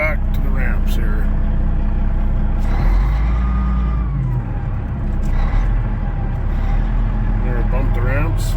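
A Cat 980F wheel loader backs onto trailer ramps, its heavy diesel engine rumbling loud and close throughout, with a hiss and clunks partway, as someone talks over the engine noise.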